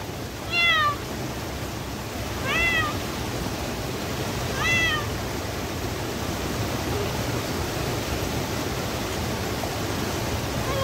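A cat meows three times in short, rising calls at roughly two-second intervals beside a riverside camp in Himachal, the cries standing out above a steady rushing wash of flowing water.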